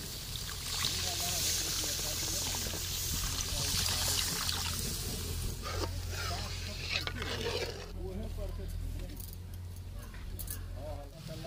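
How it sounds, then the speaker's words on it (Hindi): Water poured into fried masala in a pan while cooking fish curry in a village kitchen: a steady trickling pour with a faint sizzle and splashes, settling to a softer bubbling, with a voice talking over it. "दोस्तों मसाला तो हम भूज दिए हैं अच्छी तरह से, हम पानी डाल देते हैं।"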